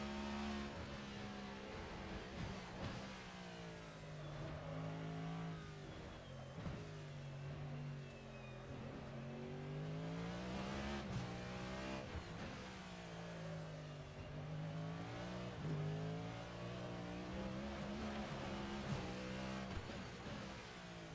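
A Cadillac V-Series.R race car circling the Bahrain circuit in a racing video game, its engine note climbing and dropping in waves through gear changes and corners, loud and steady with no voices.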